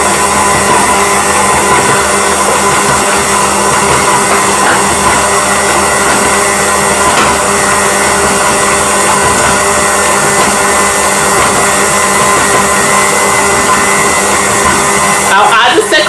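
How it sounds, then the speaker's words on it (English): An electric mixer whirs steadily while beating cake batter, a loud continuous motorized drone that holds without pause from start to finish. "I'll keep the machine working"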